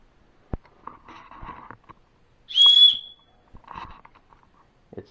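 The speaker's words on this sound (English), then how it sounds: "It's a pretty good whistle. Very sharp, very shrill." A single sharp, shrill whistle blast from a rechargeable survival multitool light rings out for about half a second amid light clicking and handling noises.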